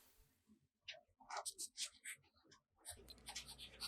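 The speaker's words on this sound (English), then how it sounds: "The next writing sample is done in a FieldNotes reporter's notebook." Fountain pen with a medium nib scratching across the paper of a FieldNotes reporter's notebook, quiet close strokes in short bursts with brief pauses between words.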